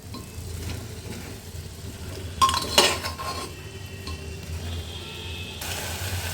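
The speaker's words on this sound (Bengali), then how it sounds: "এটা দিয়ে আবারও ভালো করে নাড়াচাড়া করে নিলাম" Vegetables and chicken with tomato sauce and soy sauce are stirred in a sizzling pan, with a utensil scraping and clinking against the metal. A louder clatter comes midway over the soft, continuous frying hiss.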